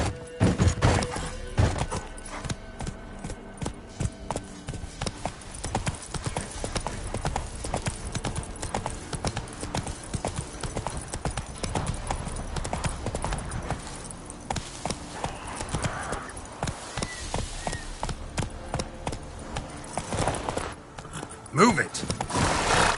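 Hooves of the horse Roach clip-clop steadily in The Witcher 3 video game, a continuous near trotting rhythm under game music and ambient sound, with a voice urging the horse on.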